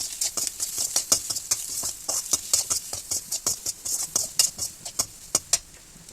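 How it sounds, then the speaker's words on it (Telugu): Egg with ginger-garlic paste and chili powder being stirred and fried in a pan, with a steady run of sharp scraping clicks over a soft sizzle, close and fairly loud with no voices. "దాంట్లో కొంచెం అల్లం వెల్లుల్లి పేస్ట్ అండ్ కారం వేసి మంచిగా కలపాలి"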